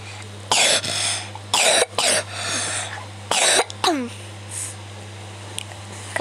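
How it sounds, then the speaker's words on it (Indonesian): A character in the Toca Boca Life World video game coughs in several loud, harsh bursts spaced a second or so apart over a steady background hum, then quieter sounds trail off. "Kamu batuknya parah banget, nanti beli obat."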